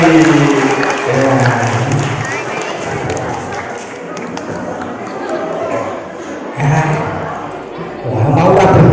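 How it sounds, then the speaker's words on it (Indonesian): Audience clapping for a student at a madrasah motivation session, a broad sustained patter filling the room, swelling again at the end, with voices talking over it. "tepuk tangan buat Mas Vicky"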